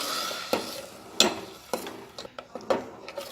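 Thandai paste being stirred into hot sugar syrup in a pan, a spoon scraping and clinking against the pot in irregular strokes over a soft simmering hiss, no talking.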